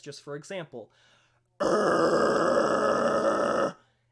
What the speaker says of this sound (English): if I were to try to do the same death growl but produce it from the throat